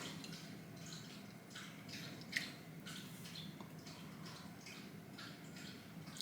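Someone drinking water close by: soft, rhythmic gulps and swallows repeating steadily, faint and quiet with no talking.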